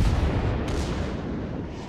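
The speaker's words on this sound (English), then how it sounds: "He's firing HE to try and light a fire." HE shells fired during a video game battle, a deep, rumbling boom with a sharp crack partway through, then a long, loud decaying roar with no voices.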